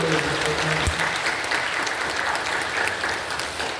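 A church congregation claps together during a worship service, a broad, even wash of applause that holds steady and fades slightly toward the end.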